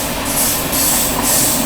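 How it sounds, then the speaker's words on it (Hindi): A goods train rumbles past close by at a railway crossing near Chinchwad station, a steady loud roar of rolling wagons with rhythmic clattering and hiss, and no voices. "उधर लगी हुई है ट्रेन, क्रॉसिंग हो रही है और बीच में मालगाड़ी आ गई।"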